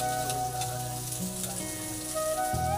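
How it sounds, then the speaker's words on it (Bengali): Fish frying hard in hot oil, crisping on both sides, gives a steady close sizzle with crackling bubbling throughout and small shifts as pieces settle in the pan. "মাছ ভাজাটা আর একটু হবে, কড়া করে হবে আর একটু"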